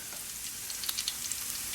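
Minced garlic sautés in olive oil over medium-low heat, giving a steady, soft close sizzle with small scattered crackles and no talking.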